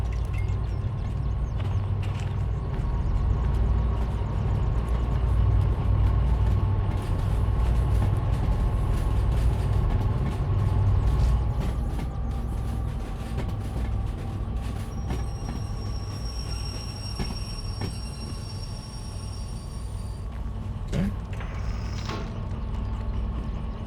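A long train hauled by nine coupled locomotives rumbles steadily in Derail Valley, with a deep continuous drone, rolling wheel noise and a faint high squeal of wheels later on.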